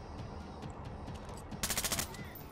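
Gunfire in the stealth shooter game Splinter Cell: Blacklist, with dense broadband bursts in the background and then a loud rapid machine-gun volley of about six shots near the end.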